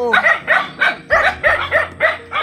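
Several dogs bark close by in a quick series of about eight sharp, loud barks and yips, with short gaps between them.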